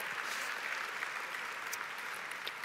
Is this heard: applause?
yes